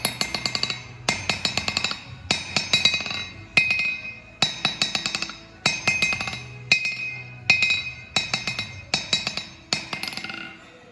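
An Eveson Stourbridge anvil with a replaced heel rings clearly under repeated hammer strikes, sharp metallic clinks in steady bursts of several blows, close and bright with no talking.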